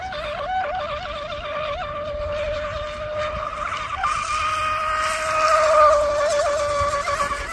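A Scorpion Rigger RC boat races a lap, its high-pitched electric motor whining steadily with wavering pitch, loud and close throughout.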